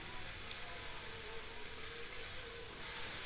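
Steady soft sizzle of chili and turmeric paste frying with spices in a pan for mutton curry, faint and continuous with a few small crackles.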